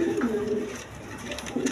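Pigeons at a sale of quality three-stripe red gear birds coo in low rolling calls up close, one burst at the start and another near the end, with a quieter gap between.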